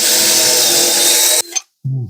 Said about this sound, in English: So we'll just drill a hole in here.